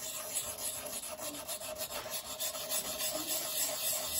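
Continuous close rasping rub of an Amehata inkstone worn down on a soft whetstone, even and unbroken, with a slightly gentler, smoother grind and no voices.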